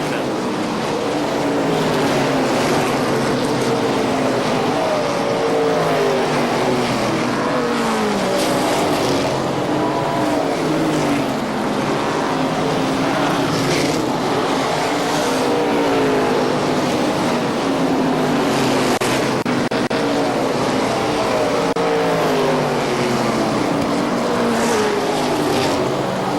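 ARCA SuperCars race at KilKare Speedway in 1999, engines roaring and whining in overlapping waves as cars pass, loud and continuous for the whole stretch.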